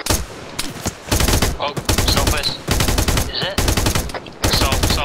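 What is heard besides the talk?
gunshots in video game ARMA 3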